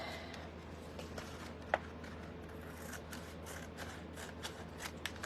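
Scissors cut through folded paper while an envelope is being made, a quiet papery rustle with one crisp snip near the middle and soft handling noises around it.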